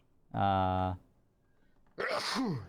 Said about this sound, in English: That sounded like a Corona sneeze.